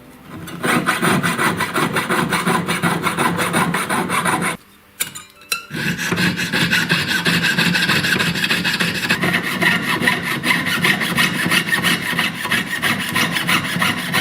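Jeweler's saw blade cutting a garnet ring, a close rasping back-and-forth scrape that runs steadily, pauses briefly near the middle, then resumes with the same rhythmic strokes.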